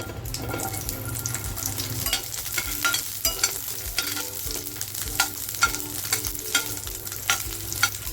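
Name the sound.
small chopped onions frying in oil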